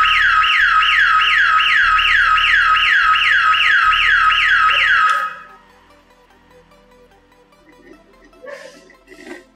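Motorcycle anti-theft kill switch alarm sounding loudly and close, a rapid repeating electronic warble for about five seconds before cutting off, followed by faint handling noises.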